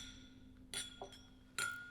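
Glasses clink together in a toast, two or three bright, quick chimes close by in an otherwise quiet room.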